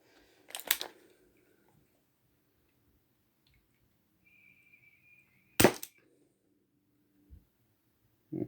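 Win Gun 731 airsoft revolver fired over a chronograph: two sharp, quiet snapping shots several seconds apart in a still room, followed by faint small clicks.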